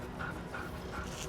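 A one-eyed street dog makes short, faint whimpers, three brief high whines spaced evenly over low background noise.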